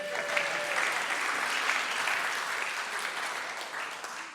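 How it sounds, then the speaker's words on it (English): Conference audience at the DevOpsDays KC 2024 opening breaks into steady, dense applause that holds evenly for about four seconds and tapers slightly at the end, with no talking over it. "Applause."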